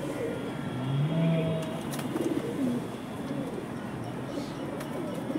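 Pigeons coo softly in a few short low calls against quiet background noise, with faint traffic sounds.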